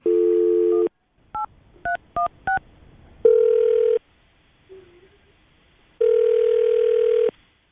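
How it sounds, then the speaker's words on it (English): Telephone touch-tone dialing as a call is placed during a podcast: a series of short beeps in quick succession, framed by longer steady tones, clear and close with no talking. "we're going to call him right now, see if we can get him on the phone"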